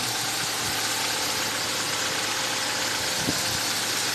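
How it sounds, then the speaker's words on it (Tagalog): A 2002 Ford Lynx engine idles steadily and quietly, a low, even hum with faint ticking close by, no voices over it. "Makikita nyo po tahimik ang kanyang andar."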